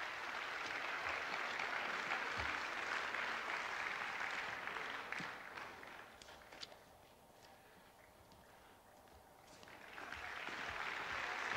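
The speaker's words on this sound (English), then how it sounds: "Please give them a round of applause, a warm welcome," Audience clapping at a song contest, a broad patter of many hands heard from a distance at low level, dipping softer midway before picking back up toward the end.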